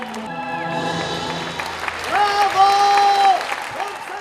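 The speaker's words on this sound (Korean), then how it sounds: "일어나 기립박수로 함께했다." Audience applauding during a gospel musical performance in Germany, the crowd rising to its feet for a scene of Jesus' resurrection and praise. Steady clapping runs throughout under sustained singing and music, swelling louder in the second half.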